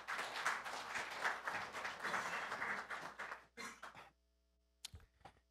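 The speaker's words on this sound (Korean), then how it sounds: "큰 박수로 맞이해 주시기 바랍니다." An audience at a policy seminar applauds to welcome a committee chairman, several seconds of steady clapping that thins out into a few scattered claps and knocks, faint overall.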